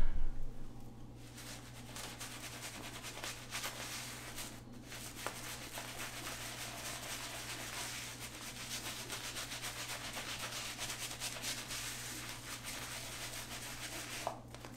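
A 24mm Shavemac synthetic shaving brush works Murphy and McNeil Granuaile soap on a Kodiak base into a lather on the face, a soft, continuous scrubbing swish over a faint steady hum.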